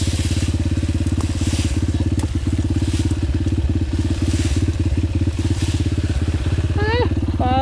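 A Yamaha TTR 125L enduro motorcycle, running a bit hot, ridden off-road: a loud, continuous engine drone close by with occasional crunches, and a short rising whine near the end.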